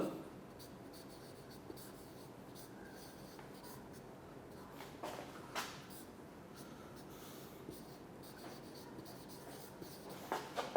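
Marker writing a chemistry definition on a board during a lecture, faint scratchy strokes and squeaks scattered across a quiet room with light breathing and no talk.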